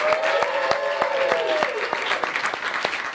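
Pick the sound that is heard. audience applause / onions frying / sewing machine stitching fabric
audience applause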